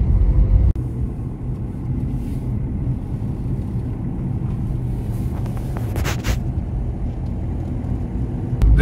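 A Ford Aspire drives along a narrow, uneven hill road, its engine giving a steady close low rumble with road noise throughout and a short bump near the end, with no talking.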